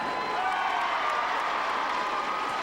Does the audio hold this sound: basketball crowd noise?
yes